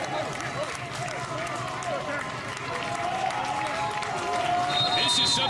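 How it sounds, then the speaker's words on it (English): Stadium crowd at a Michigan versus Michigan State Big Ten men's soccer tournament quarterfinal, a steady roar of cheering and scattered clapping that swells toward the end, with a commentator talking over it. "a crowd getting into it at a Big Ten soccer game"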